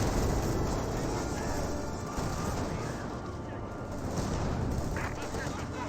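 Dense, continuous battle noise from a Company of Heroes 2 match, with steady rumbling gunfire and artillery-like blasts filling the whole stretch at a constant loud level, a voice talking over it.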